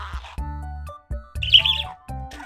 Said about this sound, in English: Now Budgie is trying to talk to me